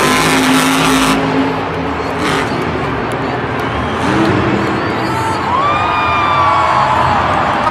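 Toy race car giving off a loud, continuous roar of revving engine and passing-car sounds with squealing tones, steady throughout without a break.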